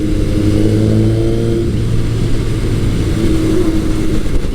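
Vintage Kawasaki KZ1000 or Honda CB900 Custom motorcycle engine revving loudly and close, a steady throaty idle rising and falling through blips of throttle for several seconds with no talk.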